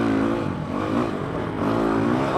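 UTV engines, an RCR Turbo 1000 and a 450, revving loudly and continuously up close on the rocky Poison Spider trail in Moab, with pitch rising and falling.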